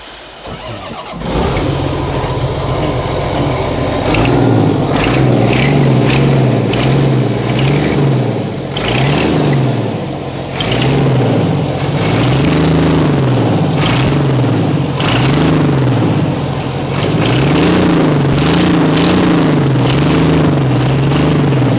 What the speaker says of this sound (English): Start it, rev it a couple of times